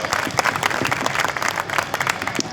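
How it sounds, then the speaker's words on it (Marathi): An audience at a kirtan gathering by a Mahadev temple claps in dense, sustained applause to welcome the kirtan performers, singers and musicians, loud and close with a few voices mixed in. "सगळ्या कीर्तनकार, गायक, वादकांसाठी एकदा टाळ्या वाजवून त्यांचं स्वागत करा."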